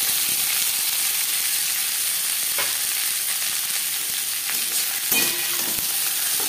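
Vegetables, including capsicum, stir-frying with a torn bay leaf for vegetable fried rice, giving a loud, constant hiss of frying with a few scrapes and clinks of stirring near the end.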